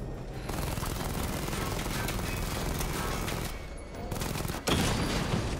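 Enemies firing guns in Batman Arkham Knight, a dense continuous barrage of gunfire that briefly dips and then resumes with a louder burst near the end.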